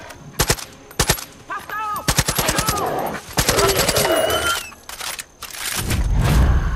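Rapid bursts of gunfire in Far Cry 5 crack in quick succession, loud and close, broken by short pauses, with a voice and game effects layered between volleys.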